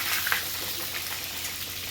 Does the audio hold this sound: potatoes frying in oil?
yes